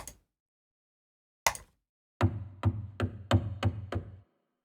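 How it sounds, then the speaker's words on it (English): Sharp plucked-string hits on a struck mandolin tuned down an octave, with a deep, dull resonance, a couple of isolated strikes followed by a quick run of six evenly spaced hits. "It's a mandolin being hit, but it's tuned down an octave."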